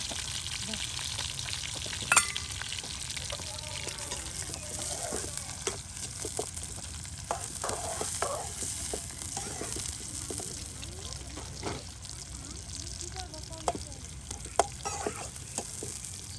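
Chopped onion and garlic frying in oil for dal, a continuous moderate sizzle with scattered spatters and scraping stir sounds, one sharper clack early on.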